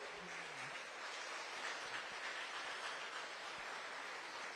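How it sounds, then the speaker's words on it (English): Youth fair pageant audience giving a round of applause in a hall, a steady, fairly faint wash of clapping that continues evenly throughout with no voices over it. "Big round of applause for them."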